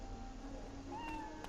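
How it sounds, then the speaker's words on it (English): A cat in the video game Dragon Age: Origins gives a short, clear meow near the end, rising and wavering over a quiet hum of game ambience. "Hello, pretty kitty."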